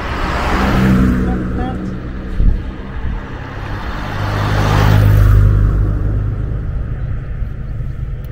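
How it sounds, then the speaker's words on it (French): A Ferrari arriving outside, its engine a deep rumble that swells and fades as it draws near and passes, with people talking close by over the noise. "Dépêche-toi, la Ferrari arrive."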